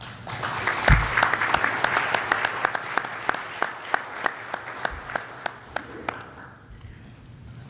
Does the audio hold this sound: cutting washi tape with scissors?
no